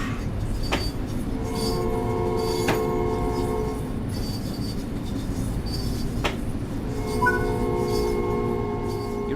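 An LIRR M7 electric commuter train in Train Sim World 4 rolls along steadily, wheels rumbling with a continuous low drone, sharp metallic clicks and high squealing tones from the running gear, no talk over it.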